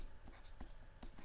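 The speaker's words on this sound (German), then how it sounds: "Also schreibe ich es mal hier hin." Someone writes on a screen during a geometry lesson on a triangle's base angles, making soft, faint, brief scratchy strokes in quick succession with no talk.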